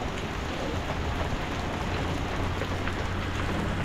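Steady rain pattering on surfaces outdoors in Manila, a dense even hiss of drops holding at a constant moderate level throughout, with no voices.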